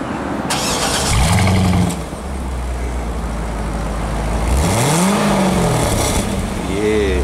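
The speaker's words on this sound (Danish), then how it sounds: "men nu har vi fået 4. Nyd lyden." A rental car's engine fires up and revs through four exhaust pipes, rising in two or three loud, close surges with a steady rumbling idle between them and voices faintly behind.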